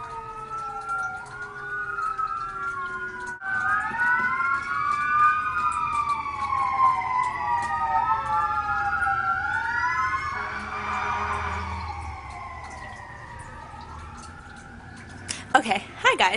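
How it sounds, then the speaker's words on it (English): Several emergency sirens wail at once outside, their overlapping rising and falling tones sweeping steadily, with traffic rumble underneath and a burst of noise near the end. "there's a lot of sirens outside right now"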